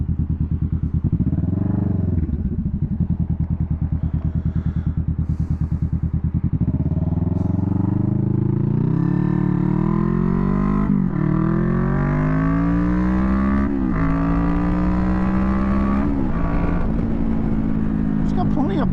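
A 2021 Kawasaki Vulcan S cruiser motorcycle is ridden and accelerates, its loud engine note climbing repeatedly through several gear changes under constant wind roar.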